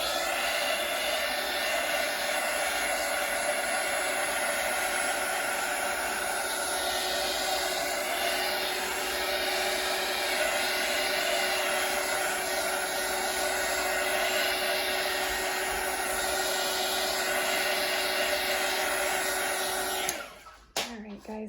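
A heat gun blows over an acrylic pour painting with a loud, steady whining roar for about twenty seconds, then switches off with a few clicks and handling sounds.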